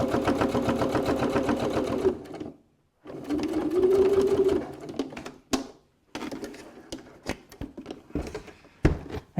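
A sewing machine stitches a wallet seam, including a back stitch, in several close, fast rattling bursts separated by short pauses, with a few clicks between runs.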